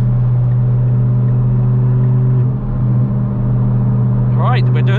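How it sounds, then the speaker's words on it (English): Modified Ford Fiesta MK6 Zetec S with a Hornet straight-pipe exhaust and five-speed gearbox cruising on a motorway, heard from inside the cabin as a steady, loud, low exhaust drone that holds without pause. "Right, we're doing some motorway driving."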